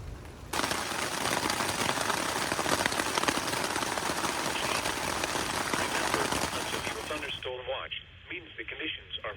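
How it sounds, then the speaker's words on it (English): Rain pours in the Allegheny National Forest, a loud steady hiss of drops on surfaces that abruptly gives way to a radio-like weather broadcast voice. "Here comes the rain."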